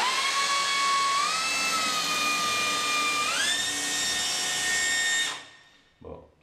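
A power drill boring into ceramic tile with hammer mode off, for a bathtub screen installation, gives a loud steady high whine that steps up in pitch twice before cutting off abruptly, leaving a brief faint knock.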